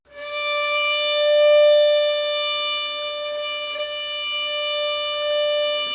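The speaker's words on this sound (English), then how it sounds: "now I move the bow towards the bridge more" A single sustained bowed violin note holds steady for several seconds, its tone staying even as the bow glides gradually toward the bridge.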